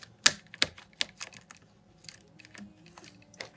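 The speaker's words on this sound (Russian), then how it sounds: "Сейчас, я просто распаковываю его." Plastic packaging crinkles and clicks as the second sword of a 2003 Teenage Mutant Ninja Turtles Leonardo figure is unwrapped, a few sharp close taps and rustles spaced irregularly in a quiet room.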